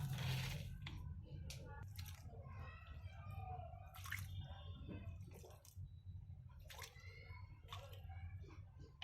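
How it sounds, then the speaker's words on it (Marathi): Liquid mustard cake fertilizer is poured into the soil of a potted tulsi plant, producing soft, faint intermittent splashes and trickles with quiet gaps between them. "तर अशा प्रकारे आपण मस्टर्ड केकचं फर्टिलायझर तुळशीला दिलेलं आहे."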